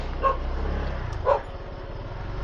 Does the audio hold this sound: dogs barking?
yes